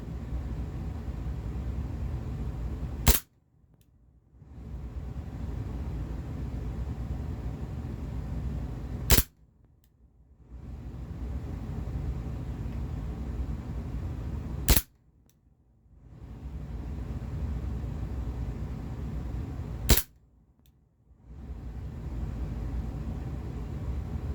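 Cybergun Desert Eagle blowback airsoft pistol firing four sharp, loud single shots spaced about five seconds apart, each a crisp crack followed by a brief drop in the steady background hiss.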